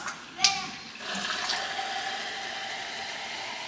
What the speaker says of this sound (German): Gekühltes Sprudelwasser aus dem Wasserhahn.